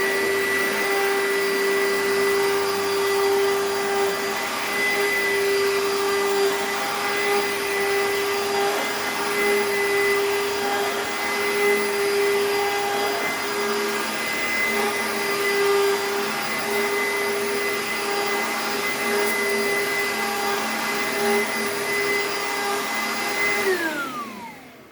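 An old vacuum cleaner, a little loud and leaning forward, runs steadily and close by with a constant motor whine and rushing airflow, alone for the full duration before switching off at the end.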